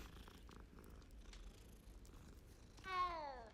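A cat in the video game Hogwarts Legacy purrs softly and low for a few seconds, then lets out a single rising, clear meow near the end.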